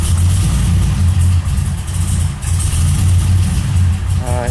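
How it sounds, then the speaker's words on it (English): A Mazda RX7 engine idles loudly and close while warming up on a cold, overcast day, a steady pulsing low rumble with slight rhythmic surges and no talk. "Sort of hear it running out there."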